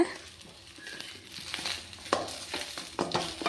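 Eggplant sautéing in oil in a pan gives a soft, crackling sizzle, broken by stirring scrapes and small pops that rise toward the end, with no voices.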